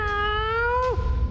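A cartoon cat gives one drawn-out, tuneful meow that bends downward at the end, loud and close, over a faint background music bed.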